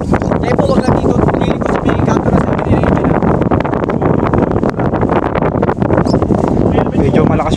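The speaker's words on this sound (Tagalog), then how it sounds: "Malakas yung hangin." Strong wind buffets the microphone outdoors in Tanza, Navotas, a loud, constant roar filling the whole stretch, with voices partly buried beneath it.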